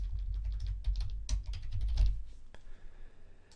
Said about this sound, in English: I can just type in for my keyword, I'm going to do golf swing